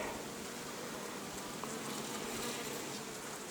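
A small August honeybee swarm works autumn buckwheat at an apiary, a soft, steady buzzing hum that continues evenly throughout without any voices.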